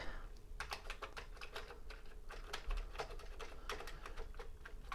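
Keys clack on an old Commodore VIC-20 computer keyboard, a steady run of close, sharp taps with short pauses, some keys sticky from long disuse, and no talking.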